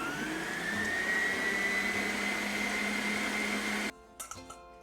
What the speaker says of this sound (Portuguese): E vamos bater até ficar uma mistura homogênea